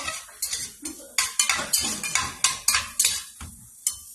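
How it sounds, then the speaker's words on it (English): Ginger and garlic hit warm oil in a pan while cooking for baked vegan egg rolls, giving a string of sharp utensil scrapes and clatters over a light sizzle, close and loud, with no talk. "Okay, so my oil's nice and warm. Throw my ginger and my garlic in there."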